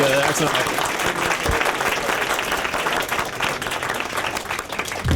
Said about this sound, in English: maybe we could just give a second round of applause to Ambassador Kamal